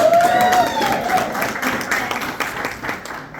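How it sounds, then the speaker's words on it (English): Audience applause for newcomers at a talk event, a steady broadband patter of clapping that fills the room at even loudness, with a faint tone gliding over it early on. "let's give them a round of applause"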